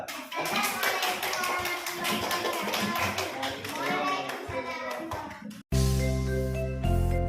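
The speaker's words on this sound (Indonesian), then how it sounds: "silakan berikan tepuk tangan untuk teman kita." Children clap for a classmate in a classroom, a dense run of small-hand claps mixed with chatter for several seconds before a sudden cut to a louder, steady tonal sound.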